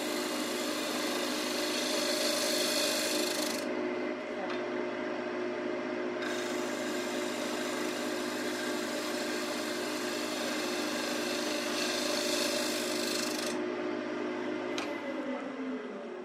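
Steady scraping hiss of a tool taking a finishing shear cut on a wooden plate spinning on a lathe, cutting in and out in long passes over a constant motor hum.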